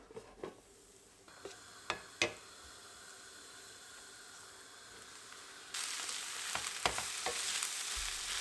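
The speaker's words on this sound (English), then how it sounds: "I'm gonna saute my potatoes, added a bit more butter and olive oil" Potatoes start sauteing in butter and olive oil, beginning with a few clinks and taps over a quiet hiss, then a louder, steady sizzle takes over near the end.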